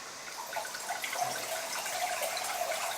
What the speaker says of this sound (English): they're practicing the exact vintage pour